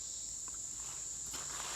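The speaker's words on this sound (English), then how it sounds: "just hearing the silence and the cicadas" A steady, high-pitched cicada buzz drones continuously at moderate volume beside a creek, with a few faint rustles and soft taps beneath it.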